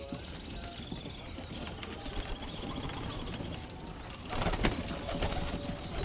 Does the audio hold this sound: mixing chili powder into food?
no